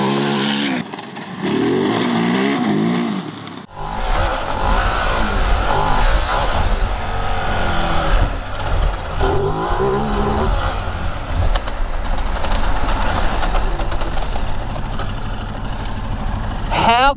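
A Ducati Desert X motorcycle ridden hard off-road on rough dirt terrain, its engine loud and close with continuous revving and throttle changes, wind noise, a brief quieter stretch at the start, and speech over it.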